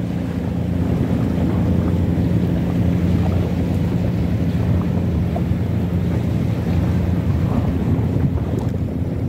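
A steady engine drone from ferries in Whampoa harbour, Hong Kong, blends with wind roaring against the microphone and the wash of waves, continuous and fairly loud.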